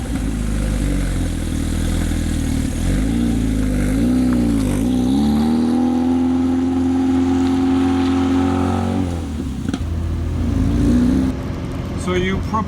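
A 1998 Lotus Elise S1 50th Anniversary with a 118 horsepower engine pulls away, its engine droning loudly and rising and falling through revs and gear changes, heard close from inside the car.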